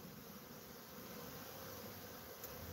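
Bees hum steadily in an apiary bee yard, a faint, continuous buzz of many insects with no voices.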